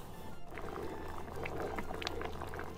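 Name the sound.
water with pandan leaves and sticky rice boiling in pot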